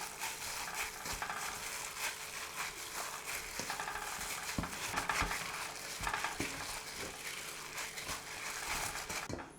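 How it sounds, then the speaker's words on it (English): Bare hands squish and knead spiced lamb mince with ghee in a bowl, giving a steady run of wet, sticky squelches and soft slaps close up, with no talk. "So hands in, break up, mix up."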